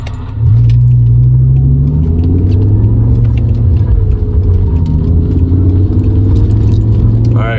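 BMW M5 E60 launching hard from a standstill in race mode, its deep engine note swelling into a loud, close roar that climbs in pitch through the gear, with some voice underneath.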